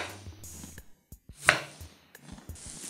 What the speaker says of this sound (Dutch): Deze snijden we simpel in velen.